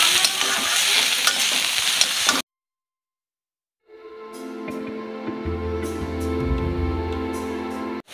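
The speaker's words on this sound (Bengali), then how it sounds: "এবার ভালো করে নাড়াচাড়া করবো" Leafy greens are stirred and fried in a pan, giving a steady loud sizzle that cuts off, falls silent for over a second, then comes back with scraping stirs and a low hum underneath.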